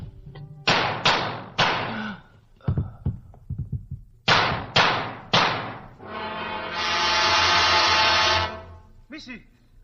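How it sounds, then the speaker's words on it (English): Staged gunshots for a live radio drama crack out in sharp bursts, three shots, a ragged cluster, then three more, close and loud, followed by a sustained ringing tone and a voice. "I hear a gunfire."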